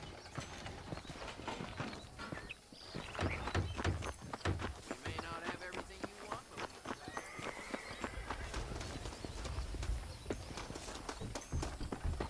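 Horse hooves clip-clop at a running pace in Red Dead Redemption, a quick rhythmic patter mixed with game music and effects while someone speaks over it.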